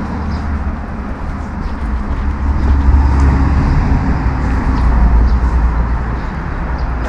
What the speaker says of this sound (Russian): выйдем на улицу Лазарев, где немножечко шумят машины